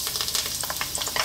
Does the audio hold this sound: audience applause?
no